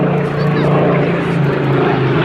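A Rolls-Royce engined Supermarine Spitfire PR.XIX flies at the Midlands Air Festival, its loud steady piston engine drone filling the air without break.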